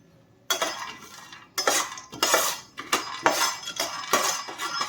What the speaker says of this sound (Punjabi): ਸਭ ਤੋਂ ਪਹਿਲਾਂ ਆਪਾਂ ਡਰਾਈ ਰੋਸਟ ਮੂੰਗਫਲੀ ਕਰਾਂਗੇ ਇਹਨੂੰ ਥੋੜਾ ਜਿਹਾ ਭੁੰਨ ਲਾਂਗੇ